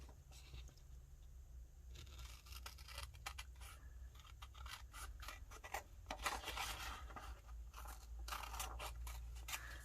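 A sheet of 12 x 12 scrapbook paper is trimmed with a run of faint, close scraping and snipping strokes. The strokes grow busier toward the end in an otherwise quiet room.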